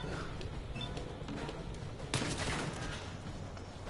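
Gunfire from shooting an Assaultron robot in Fallout 4, a quick run of muffled shots with one sharper burst midway, faint and compressed under low game background noise.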